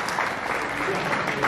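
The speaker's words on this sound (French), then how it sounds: "Applaudissons encore très très fort pour Elliot." Audience applause for Elliot at a celebration-of-life gathering, a steady, dense patter of many hands clapping continuously for the full moment at moderate distance.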